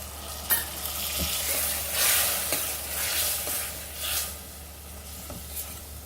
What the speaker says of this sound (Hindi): अब इसी तरह से इसे थोड़ा सा भून लेंगे, कुछ देर और भूनेंगे।